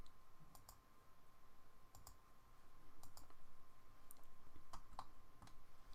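Computer mouse clicking during AutoCAD 3D drafting, with crisp, quiet clicks coming singly and in quick pairs, spread out over steady low background hum.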